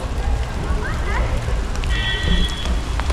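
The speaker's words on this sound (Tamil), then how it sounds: "மழை பேஞ்சு அதிகமாக இருக்குது." Steady rain patters down in a pine forest at Poombarai near Kodaikanal, a dense continuous hiss with low rumble, while faint voices and a brief tonal sound come through in the background.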